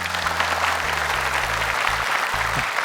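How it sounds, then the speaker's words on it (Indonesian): Studio audience applause for a young contestant on a televised Quran memorisation competition, steady clapping held throughout over low background music. "tepuk tangan untuk Ica."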